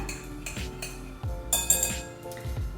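A spoon clinks and scrapes in a bowl as tart filling is mixed with a pinch of salt for a pumpkin and goat cheese tart. The light metallic taps and stirring strokes come close and fairly soft, with no talk.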